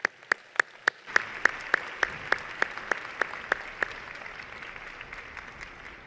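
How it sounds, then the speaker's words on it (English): Applause for faculty at a university commencement ceremony: sharp, evenly spaced claps ring out over a soft wash of crowd clapping, the distinct beats thinning and fading after a few seconds. "Please join me in saluting our faculty with a round of applause."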